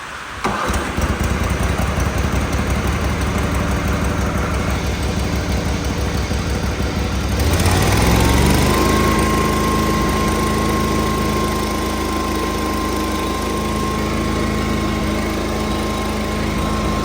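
Toro Wheel Horse garden tractor engine starting up and settling into a steady, loud idle with a slight misfire, its rhythm stumbling now and then; no one speaks over it.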